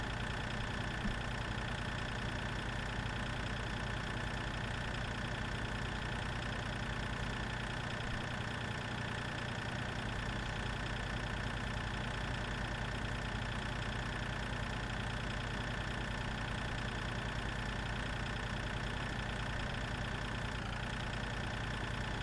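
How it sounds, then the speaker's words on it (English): Small red tractor engine in the Farming Simulator 2013 video game, a continuous mid-pitched droning hum with a knocking idle texture, steady and unbroken for over twenty seconds with no talk. "These little red tractors go pretty well around the farm."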